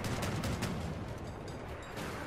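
Fairly faint, rapid popping shots in Crossout, fired from behind by a pursuer with shotguns, coming as a quick cluster of reports over steady vehicle rumble.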